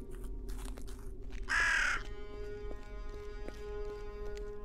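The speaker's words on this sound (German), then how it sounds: "Vielleicht muss ich einfach dem Raben hinterher, dem Krakelraben." One loud, rasping raven caw lasting about half a second, close up over a soft droning ambience in the 2D role-playing game Drova - Forsaken Kin.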